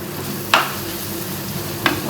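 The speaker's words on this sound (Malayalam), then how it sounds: "ഒന്ന് വഴറ്റിയെടുക്കാം" Masala with chilli powder and pepper powder sautés in a pan under a low continuous sizzle, broken by two sharp scraping strokes of a spoon against the pan.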